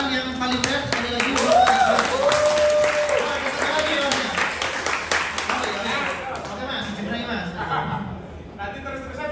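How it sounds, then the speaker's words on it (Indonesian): Audience applause fills a hall at a leadership talk on managing through the pandemic, steady dense clapping that swells early, then thins and fades toward the end, with a few voices and chuckles mixed in. "Boleh tepuk tangan yang paling berat sekali lagi."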